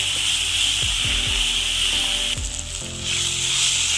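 Onion and tomato sauté in a pan for a masala curry, a steady broadband sizzle running throughout with occasional low scraping rubs from a spatula, fairly loud and close with no voices.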